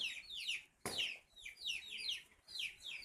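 Chickens on a small farm at evening feeding time give faint, repeated high chirping calls in quick descending sweeps, with a brief thump partway through.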